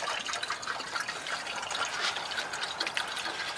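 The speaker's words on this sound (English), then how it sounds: "So we'll go ahead and put some antifreeze in this." Antifreeze pouring into a square body short bed truck's radiator, a soft, steady gurgling trickle of liquid filling, faint and continuous.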